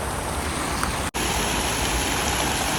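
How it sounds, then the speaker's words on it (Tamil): An artificial waterfall in Riyadh pours down in a loud, constant rushing wash of falling water, broken only by one brief dropout. "அருவி மாரி அப்படியே ஒரு இது மாரி கொட்டுது பார்த்தீங்களா"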